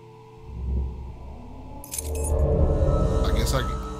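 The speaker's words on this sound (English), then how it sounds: "Can I grab these keys?" Metal keys jangling as they are picked up in the horror game FOBIA: St. Dinfna Hotel, a brief close clinking rattle over low ambient game drone and background hum.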